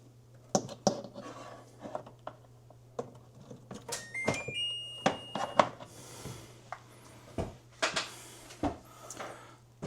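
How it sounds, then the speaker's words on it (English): A newly installed microwave oven is plugged in and powers on: a steady low hum runs beneath a short run of electronic beeps, with scattered clicks and knocks from handling nearby. "the microwave is up and running"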